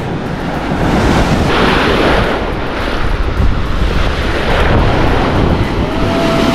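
Sea waves rolling onto a beach in Ilocos, a loud continuous roar of surf with wind buffeting the microphone throughout.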